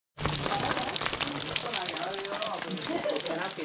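Water rushes and gushes continuously at the Degma waterfall near Zilpi lake in Nagpur, heard close and fairly loud, with someone talking over the steady roar.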